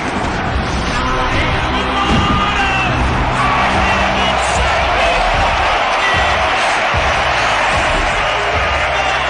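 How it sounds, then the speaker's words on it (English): A Muay Thai kickboxing crowd roars in a frenzy after a knee strike, a loud continuous wall of cheering and shouting that holds steady for around nine seconds. "A blistering knee to the face sent the crowd into a frenzy."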